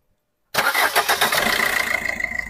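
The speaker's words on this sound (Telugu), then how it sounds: "ఇంజిన్ అయితే స్టార్ట్ చేసి చూపించడం జరుగుతుంది." A used car's engine cranks briefly after a moment of silence, then catches and settles into a steady, close, loud idle with a faint whine. No voices are heard.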